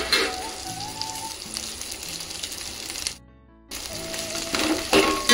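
Mint leaves frying in plenty of hot oil in a pan for Telugu roti pachadi chutney: a steady crackling sizzle with sharper pops and spits, cut by a brief silent gap partway through, then resuming as loud as before.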